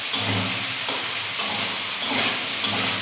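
Potatoes stirred in a pan after poppy-seed paste water is poured in: a continuous bubbling sizzle with soft scraping strokes of a spoon, close and moderately loud, with no speech.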